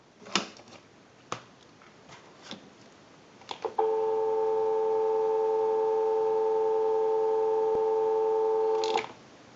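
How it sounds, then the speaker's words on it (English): Steady dial tone on a payphone line, a continuous loud hum of layered pitches running unbroken for about five seconds, preceded by a few sharp clicks and handset clunks from the phone. "Go ahead and give you some dial tone."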